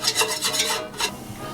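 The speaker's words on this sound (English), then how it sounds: "use that whisk you were using earlier for stirring the mac and cheese and just start whisking this together" A whisk stirs a flour roux in a pan over medium heat, giving quick rhythmic scraping strokes, close and fairly loud, that trail off into quieter rubbing.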